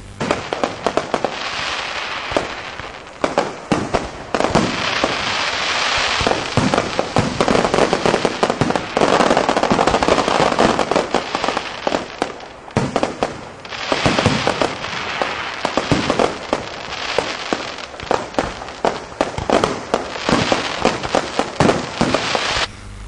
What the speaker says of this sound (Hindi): आकाश में फूटते पटाखों ने सुरमई रात को सतरंगी बना दिया था।